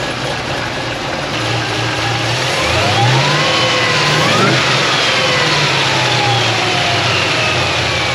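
An LSA-supercharged drift car running on E85 idles roughly up close, then revs hard, climbing to a loud sustained roar with a rising supercharger whine before settling back to a burbling idle.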